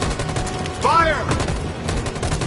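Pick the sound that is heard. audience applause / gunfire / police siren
gunfire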